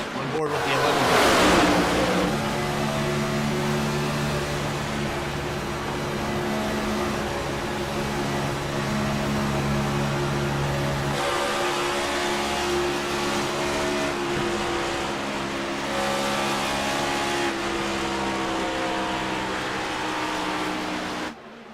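Onboard engine drone of the number 11 race car in a racing video game at Las Vegas Motor Speedway, a steady sustained whine with shifting pitch that holds throughout, along with broad rushing noise and a brief louder burst near the start.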